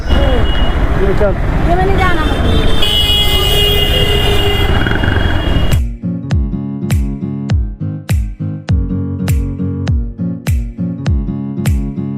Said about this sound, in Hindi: और इस साइड पैसेंजर वाला ट्रेन अभी आ रहा है।